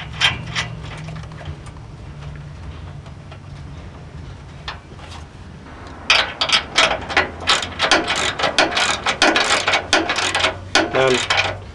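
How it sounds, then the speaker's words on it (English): A hand ratchet tightens bracket bolts holding a bull bar to the frame of a Ford F-150, giving close, rapid clicking strokes in irregular bursts, quieter at first and then louder and denser for the last half. "Now I'm tightening up the bracket itself to the framing so it's nice and snug"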